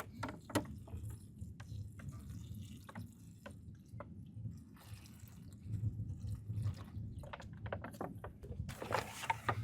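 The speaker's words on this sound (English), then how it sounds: "I'll water them in." Soft trickling and dripping water splashing into potting soil as newly potted oleander cuttings are watered in, faint and close, with scattered light ticks and a brief louder splash near the end.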